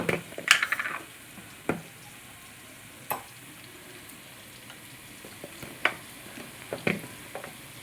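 Ginger garlic paste and chili powder fry in a pan with a low, steady sizzle, broken by a few sharp spoon scrapes and clinks against the metal as the mixture is stirred. No one speaks.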